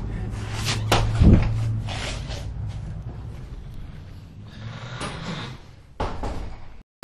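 A prank trick door bangs and rattles as it is opened and closed, with a loud thud early on and further knocks and scrapes following.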